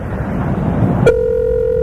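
A steady telephone ring tone sounds on a call to a McDonald's in Missoula, Montana, starting abruptly after a stretch of low noise and holding as one continuous tone.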